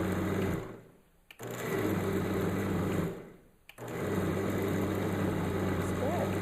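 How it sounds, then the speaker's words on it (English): A kitchen blender pulses while making salsa, a loud steady motor whir that cuts out twice for about a second before spinning back up. "I thought my blender was as loud as the food processor attachment, but it's not."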